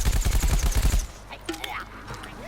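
Frozen C1 assault blaster from Plants vs. Zombies: Garden Warfare firing a rapid, steady burst of shots for about a second, then stopping, followed by faint game effects in the background.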